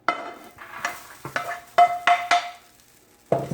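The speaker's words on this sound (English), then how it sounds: "It's actually sizzling because I have it on the hot burner." A rice casserole mixture sizzles in a 13 by 9 inch pan sprayed with olive oil, set on a hot burner, with scraping stirs and light clinks of utensil against the pan in short bursts, close and fairly loud.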